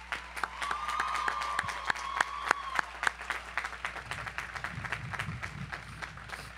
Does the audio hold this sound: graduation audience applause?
yes